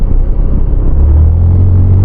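A 2026 ZONTES 368G adventure motorcycle engine pulls under throttle mid-corner, a low steady rumble swelling into a firmer droning note, close and continuous beneath wind noise.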